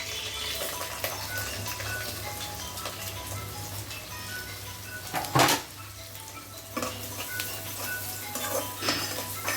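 Soft sizzling of onions frying in a pan with occasional clinks of a utensil against metal, plus one louder scrape midway; no talking.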